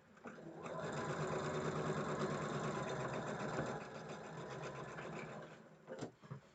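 A home sewing machine stitches the final seam on a quilt row, a close, steady mechanical whir running for several seconds before slowing and stopping, followed by a couple of soft clicks.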